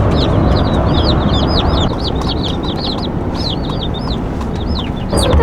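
A dense flock of baby chicks for a meat bird operation peeps continuously, with many high chirps overlapping loudly and close over a steady rustling bed.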